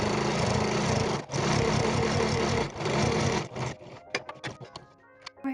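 A sewing machine top-stitches fabric dungaree straps, humming along in a steady rhythmic run with two brief pauses, then stopping at about four seconds and giving way to a few scattered clicks and handling noises.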